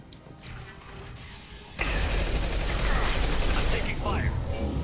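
Sustained gunfire from a Mass Effect 2 firefight erupts abruptly after a quieter opening, continuing loud and dense with rapid bursts, weapon mechanisms and impacts.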